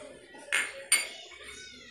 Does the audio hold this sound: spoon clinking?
yes